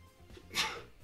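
A single sharp sneeze bursts out midway, short and fairly close, rising out of quiet room background with no talk.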